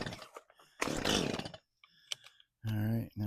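A choked chainsaw is started near a downed tree and an electric fence. Sputtering bursts and clatter lead to a short steady engine drone at the end, with voices in between.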